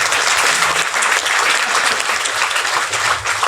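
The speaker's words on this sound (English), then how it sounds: "you can clap for her" Audience applause welcoming a new team member at a First Friday community event, loud and sustained clapping from a crowd, even and unbroken across the whole stretch.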